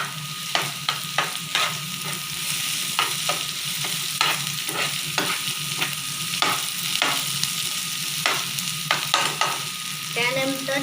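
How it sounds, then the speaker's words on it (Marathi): Chili garlic paste frying with browned, softened onions for soybean kheema, a busy sizzle punctuated by repeated rhythmic scraping strokes of a spoon stirring the pan, close and fairly loud. "आता आपण त्यामध्ये मिरची आणि लसूणचं पेस्ट आहे ती घालून घेऊया।"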